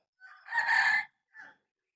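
A rooster crows at a poultry coop, a loud close cock-a-doodle-doo followed by a brief trailing note, alone with no talk.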